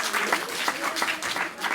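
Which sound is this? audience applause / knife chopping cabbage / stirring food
audience applause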